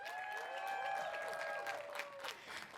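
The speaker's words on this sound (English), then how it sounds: "Let's give them a round of applause." At a College of Alameda graduation ceremony, a distant crowd applauds faintly for co-enrolled students while sustained, sliding whoops and cheers ring out above the clapping.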